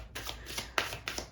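A deck of tarot cards is riffled and shuffled in a quick series of four or five crisp, papery bursts, close up and moderately loud with short pauses between them.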